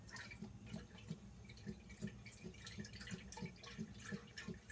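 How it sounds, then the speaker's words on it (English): Chicken broth pours from a carton into a soup pot, with quiet continuous splashing and gurgling and small rhythmic glugs throughout, faint and close. "I'm just dumping it straight into my soup pot."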